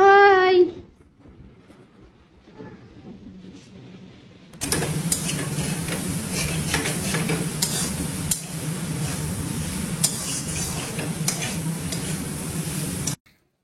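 Jute leaves and potato dry-fry with a dried chilli tempering, a steady loud sizzle and scraping stir that starts abruptly after a quiet stretch and runs on continuously before stopping.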